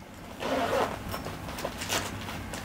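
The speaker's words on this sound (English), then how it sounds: "And we've got quality zippers. And if you open this up, we've got our personal section." A zipper is pulled open on a Surviveware survival kit bag. A close, quiet ripping zip rises and falls in a few quick pulls over about two seconds.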